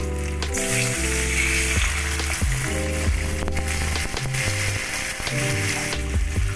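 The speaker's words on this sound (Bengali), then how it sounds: "এবারে আমি এতে গরম জল দিয়ে দিলাম।" Hot water poured into a pan of fish curry with fried potatoes sizzles and crackles loudly and steadily, with a tune playing beneath the continuous frying hiss.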